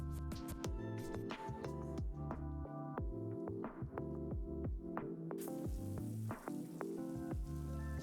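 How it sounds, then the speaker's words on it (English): Lobster tails sear meat side down in a hot pan, giving a dense crackling sizzle that keeps up steadily with rapid pops over a constant background hiss. "I'm going to take my lobster tails, meat side down, and put it directly onto the hot pan."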